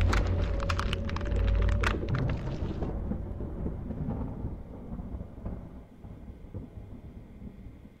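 Rain and rolling thunder in the Japanese horror game Tsugunohi, a loud rumbling crash at first that fades into steady, quieter rainfall.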